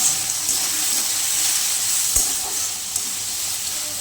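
Vegetables sizzle steadily in hot oil, a continuous crackling fry with a couple of soft knocks from a utensil.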